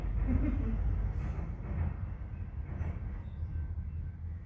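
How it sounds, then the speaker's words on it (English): A train rumbles past steadily at moderate distance, a continuous low roar with faint wheel noise, heard from indoors in a quiet room during a yoga session. "you can hear the train going past right on cue"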